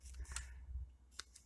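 Scissors cutting through paper card for a Christmas pop-up card, a couple of close crisp snips with a low rustle of handling between them, no voices.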